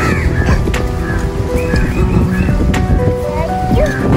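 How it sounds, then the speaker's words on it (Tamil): Crows caw in an open green outdoor spot where people are eating together, several short calls scattered over steady background noise and some talk. "இந்த காகம் மட்டும் டிஸ்டர்ப் பண்ணாமல் இருந்துச்சுன்னா ரொம்ப சூப்பராக இருந்திருக்கும்"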